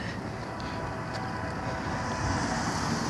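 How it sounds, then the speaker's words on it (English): Sounder commuter passenger train rumbling past close by, a steady broadband roar of wheels and cars holding loud and even throughout, with no voices. "But I think it's a sounder train."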